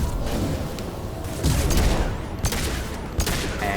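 Gunfire in the video game Mass Effect 2, rapid bursts of shots with several sharper booming impacts, loud and close, repeating in quick clusters with no talk.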